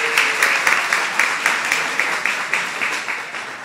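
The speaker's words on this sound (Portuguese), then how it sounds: "Palmas para ela." A live audience at a Portuguese-language storytelling and comedy talk claps together in a regular rhythm, each clap clear and evenly spaced, loud and near, gradually tapering over nearly four seconds.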